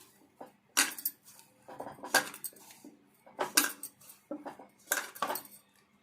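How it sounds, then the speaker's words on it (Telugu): Maida flour dough is mixed in a bowl for coconut bakshalu, with rhythmic clinking and scraping strokes against the bowl in repeated bursts, fairly close and quiet, with no speech. "దీన్ని మనము ఒకసారి మళ్ళీ మంచిగా కలుపుకోవాలి."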